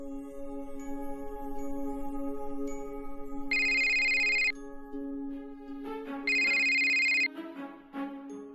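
A telephone ringtone on a mobile phone plays in a repeating melodic pattern, with two louder bursts of ringing partway through, alone and with no talking over it.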